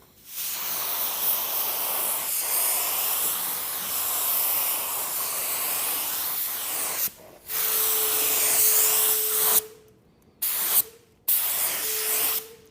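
A paint spray gun lays base coat color over a primed area in long continuous hissing bursts, broken by brief pauses between passes, loud and close with no talking.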